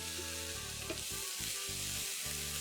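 Vegetables sizzling in a pan for Indian-style masala pasta, a soft close frying crackle with faint stirring scrapes, no voices.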